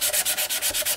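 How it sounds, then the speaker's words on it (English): Sandpaper rubs back and forth on the quilted wood of a custom mandolin, making quick, even rasping strokes, about eight in a second, close and loud with no talk. "This stuff here really doesn't sand that easy at all."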